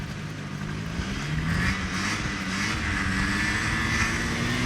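Race car number 104 idles and runs just after starting, a steady droning engine note with wavering low harmonics and small rises in pitch, heard continuously and fairly close with no voices.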